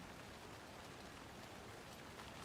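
Steady rain in the video game Alan Wake 2, a faint, even wash of drops on surfaces with no talk over it.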